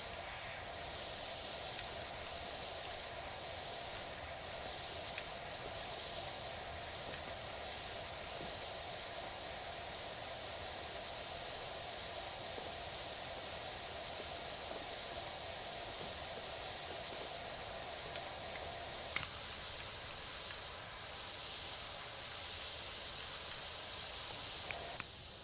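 A steady, continuous hiss of a pressure washer spraying in PowerWash Simulator while cleaning a playground, with a constant broadband rush running throughout and no talk.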